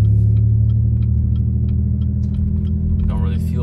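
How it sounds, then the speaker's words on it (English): Steady low rumble inside a moving Chevy Impala, engine and road noise droning evenly throughout with faint ticking clicks above, and a brief voice-like sound near the end. "And yeah, we're just driving right now."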